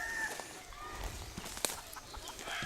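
Soft clucking from a few chickens and baby chicks nearby in Ronda, Philippines, faint and intermittent against quiet outdoor background noise.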